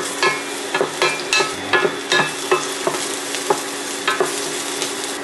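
Bean sprouts and spinach are stir-fried in sesame oil, a steady sizzle punctuated by rhythmic scraping and tossing strokes of a spatula, close up and with no speech.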